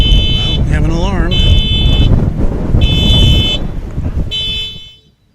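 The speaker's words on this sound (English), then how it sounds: "Well, we have an alarm." An alarm at DFW Airport sounds in repeated loud electronic bursts with a steady high tone, layered over crowd noise and wind; a voice talks over it before the sound cuts off near the end.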